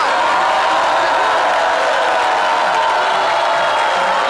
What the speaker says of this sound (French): Merci de l'applaudir très fort.